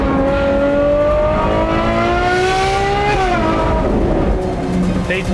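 A Ferrari 812 GTS V12 with a Novitec exhaust revs hard with a loud sporty note, pitch climbing through gears, then dropping as it lifts off; close and loud.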